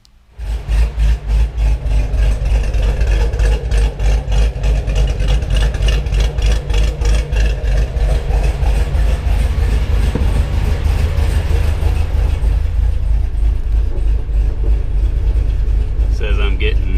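Car engine idling steadily while a fuel system with added fuel pumps runs, a continuous low rumble with a slight fluctuation, close and fairly loud for the whole stretch.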